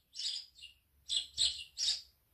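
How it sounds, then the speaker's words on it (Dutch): House sparrows in a garden give four short bursts of bright chirping, clear and fairly close against a quiet background. "Deze vrolijke mussen eten zaden en granen."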